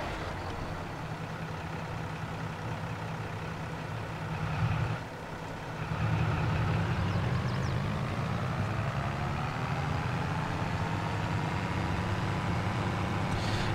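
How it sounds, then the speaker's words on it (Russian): A tractor driving in Farming Simulator 22 with its trailer left behind, a steady low engine drone that dips briefly and then runs a little louder and unbroken to the end. "вот сейчас мы съездим в магазин на тракторе"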